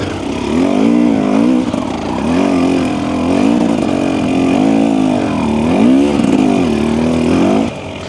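Husqvarna TE300 dirt bike ridden on slippery ground, engine note loud and close, revving and bogging in uneven surges as the rear tyre struggles for grip, alone without voices.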